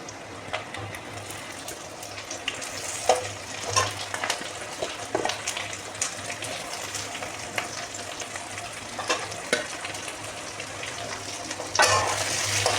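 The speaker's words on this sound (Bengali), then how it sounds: "পেঁয়াজগুলো কিন্তু হালকা একটু ভাজা হয়ে গেছে, এরপর কিন্তু আমি ক্যাপসিকামগুলো আস্তে আস্তে করে দিয়ে দেব" Onions and capsicum sizzle steadily in a pan for a Bengali chili chicken, with irregular stirring clatters and scrapes cutting through the constant frying hiss; no talking.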